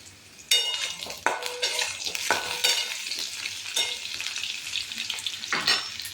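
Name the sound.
potatoes frying and being stirred in pan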